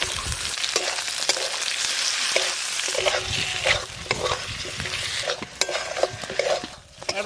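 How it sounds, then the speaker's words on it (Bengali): Tomato and eggplant sizzle in a spice paste in a pan while being stirred, a steady frying hiss broken by repeated scraping and clinks of the utensil, close and continuous, during village cooking of a Santali fish curry and greens. "এবার ভালোভাবে নেড়ে নিয়েছি"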